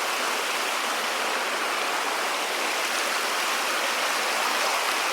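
A creek flows outdoors with a steady, even rush of water. The hiss is constant and moderately loud, with no voices over it.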